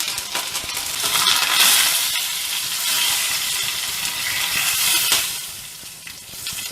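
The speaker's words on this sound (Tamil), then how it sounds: "எண்ணெய் நல்லா சூடாயிடுச்சு. அதில் கடுகு போட்டுக்கலாங்க. அடுத்தது பெருங்காயத்தூள் சேர்த்துக்கலாங்க. அடுத்தது கறிவேப்பிலை இலைகளும் போட்டுக்கலாம்." Mustard seeds and curry leaves spit and sizzle in hot oil, a loud, dense, continuous frying crackle with bright popping bursts, close up and without speech.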